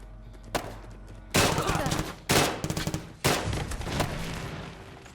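Pistol fire from a 9mm or 10mm handgun in Fallout 4, several sharp close shots fired in quick separate bursts with a few rapid follow-ups, loud and dry.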